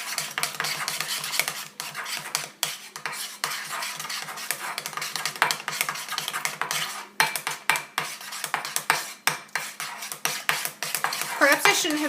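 Whipping cream whisked by hand in a bowl gives a steady run of rapid metallic clinks and scrapes, close and fairly loud, with no talking.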